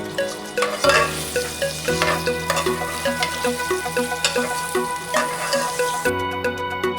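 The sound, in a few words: chopped onions frying in oil until golden brown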